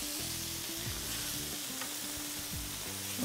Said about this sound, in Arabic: ونقلب الطماطم كده